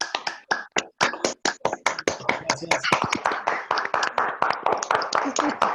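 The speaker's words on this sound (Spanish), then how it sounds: "me parece que lo que corresponde es el aplauso" Audience applause after a lecture: a short burst of hand clapping from a modest crowd, building into a steady patter for several seconds, with a voice briefly thanking the crowd over it.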